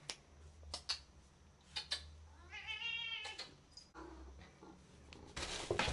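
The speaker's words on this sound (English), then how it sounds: "That is my cat." A cat meows once, a rising and falling nasal cry, between soft clicks and faint handling noises, close by and moderately quiet.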